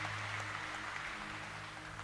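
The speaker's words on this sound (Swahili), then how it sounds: "Makofi" A church congregation at a Kikuyu-language Sunday service claps together in a brief, even burst of applause, fairly faint and heard over a low electrical hum.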